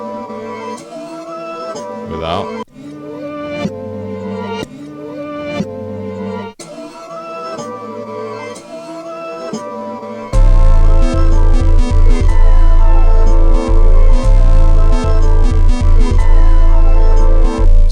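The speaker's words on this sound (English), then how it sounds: "things are very bendy and glitchy sounding, and that bass is just all over the place" A glitchy, distorted bass sample with saturation and Pultec-style EQ plays loud and close, bending and wobbling in pitch, then heavier punchy beats kick in halfway through; a voice briefly speaks over it.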